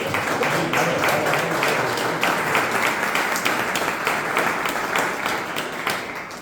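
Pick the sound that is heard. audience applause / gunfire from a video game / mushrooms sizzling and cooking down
audience applause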